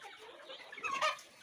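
Desi chickens on a village poultry farm cluck softly in a brief, close burst, the calls rising a little in loudness near the end with no talk over them.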